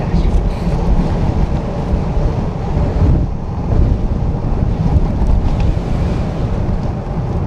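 Strong wind roars steadily across the microphone of a cyclist riding at night, a dense, continuous buffeting that smothers most other sound, with faint talk in the background.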